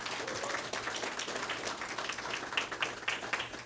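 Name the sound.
audience applause for speakers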